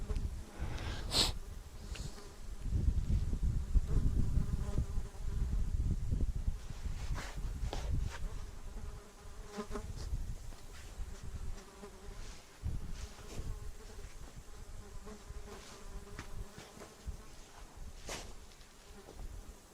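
Flying insects on a farm buzz continuously and close by in warm weather, a dense steady drone with swells as individual insects pass near.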